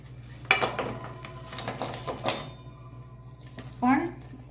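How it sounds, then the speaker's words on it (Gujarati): Jaggery tipped into hot ghee in a pan for mawa chikki, heard as close clatters and scrapes of a utensil against the pan, with a brief higher squeak near the end; a voice speaks faintly in the background. "ઘી ગરમ થઈ ગયું છે તો હું ગોળ બધો એડ કરી દઉં છું અંદર"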